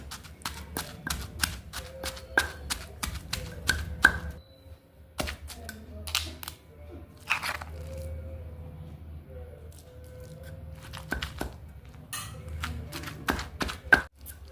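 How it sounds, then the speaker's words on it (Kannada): Tamarind chutney pounded by hand with a new wooden pestle in a stone mortar, a run of sharp, close thuds in irregular bursts with short pauses between strokes, fairly quiet overall. "ಈಗ ನಾ ಫಸ್ಟ್ ಟೈಮ್ ಇದನ್ನು ಒನಕಿಲೆ ಮಾಡ್ಲಿಕ್ಕತ್ತೀನಿ"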